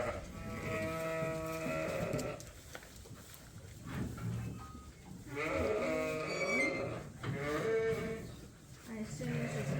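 Sheep on a farm bleat repeatedly in loud, wavering calls, with several overlapping cries from a flock close by and a constant low rumble of farm background between them.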